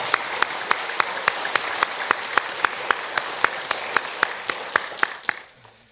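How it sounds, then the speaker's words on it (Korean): A church congregation at a Sunday evening service in Jeonju, Korea, applauds in encouragement of short-term mission teams: evenly spaced, unison claps, about sixteen in a steady rhythm, fading away at the close. "여러분 격려의 박수 보내주시면 감사하겠습니다"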